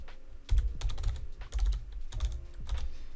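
Keys clatter on a computer keyboard in a short burst of typing, clear and close, with irregular clusters of taps and no voices.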